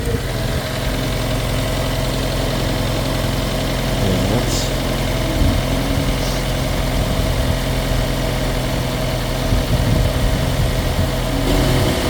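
A car engine runs at a steady idle during a battery crank test with a UNI-T UT673A tester, giving a continuous, loud, even rumble with light knocking texture, heard close, with brief clicks over it.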